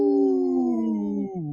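A wolf howling, one long sustained tonal cry that slowly falls in pitch and dips near the end, loud and clear with no voices.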